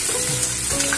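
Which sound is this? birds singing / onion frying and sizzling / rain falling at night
onion frying and sizzling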